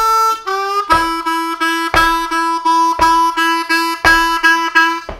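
Blues harmonica lick that leads into the four chord of a 12-bar blues, played alone as a run of about ten reedy, sustained notes in a steady rhythm, with a slight bend at the start.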